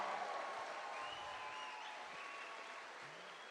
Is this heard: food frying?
no